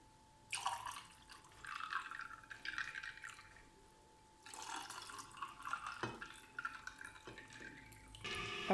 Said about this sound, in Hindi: इसके बाद पानी डालेंगे।